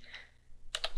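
Keys pressed on a computer keyboard, a couple of faint clicks followed by a sharper double click of the enter key, quiet and close.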